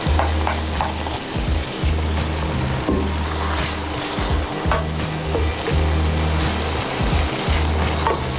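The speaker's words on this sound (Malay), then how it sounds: "Dan daging mince meat kita goreng sekali" Minced meat sizzles and crackles steadily in a hot pan, with occasional scraping and stirring knocks, loud and close throughout.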